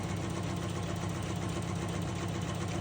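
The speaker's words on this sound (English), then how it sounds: "we're just gonna stitch on the diagonal line all the way down" A sewing machine runs steadily, stitching down a diagonal line on a spool quilt block. The motor keeps up a continuous close whir and rattle with no pauses and no talk.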